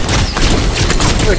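Rapid gunfire from a weapon in Fortnite during a horde rush match, loud and dense throughout a short burst, with a voice speaking over it.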